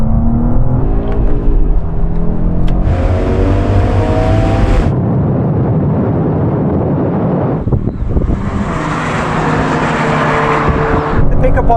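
Four cars drag racing from a rolling start at 50: a BMW M2, Audi RS3, Mercedes-AMG A45 S and Porsche Boxster GTS, three in third gear and the Porsche in second. Loud, steady engine roar with heavy wind buffeting throughout.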